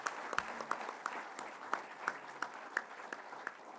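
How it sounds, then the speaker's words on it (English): A conference audience applauds, a dense steady patter of many hands clapping in a hall, moderately loud and continuous with no talk over it. "you can probably clap one more time for making it happen"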